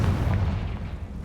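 Confringo blasting spell explosion in Hogwarts Legacy: a brief, dense, booming blast with a low rumbling body that stays steady and loud throughout.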